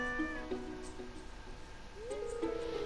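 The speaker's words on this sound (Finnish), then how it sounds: "Kuunnelkaa sen naukumista." A cat meows in the farming video game Stardew Valley, a few short, high, slightly tonal mews spread across the moment, heard clearly over soft background game music with no talk.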